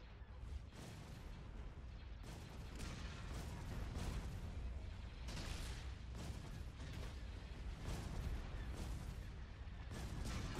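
Laser cannon fire from a space battle in the Star Wars strategy game Thrawn's Revenge, a dense, continuous barrage of booming, crackling blasts with repeated bursts recurring every second or two, loud and unbroken, with no talk.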